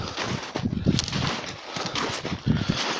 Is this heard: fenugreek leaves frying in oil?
no